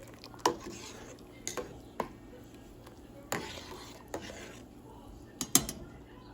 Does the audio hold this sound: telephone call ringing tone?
no